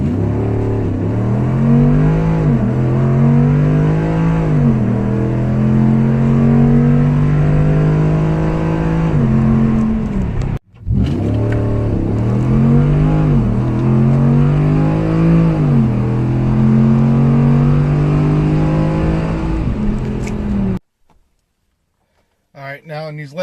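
A cammed Ram 1500 pickup truck with new mods and fine tuning accelerates hard from 0 to 60 in two close, loud runs. Its engine note climbs and shifts through the gears, the first run cutting off abruptly around the midpoint and the second fading near the end.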